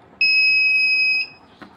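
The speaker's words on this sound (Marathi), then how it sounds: "एखादी वस्तू 15 सेंटीमीटरच्या आत आहे, आपल्या जवळ आलेली आहे, तर तो बझर दाखवेल" An Arduino Uno-built reverse parking sensor buzzer for a four-wheeler sounds one sharp, high electronic tone lasting about a second, loud and steady, then cuts off into near silence.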